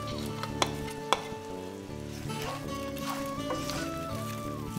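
Fish head frying with spices in a pan, a continuous sizzle with occasional scrapes and clinks of stirring, close and alone.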